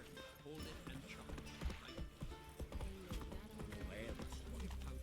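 Hooves of the horse Roach clatter in a rapid galloping clip-clop in The Witcher 3, steady and moderately close, mixed with game sounds while someone talks over it.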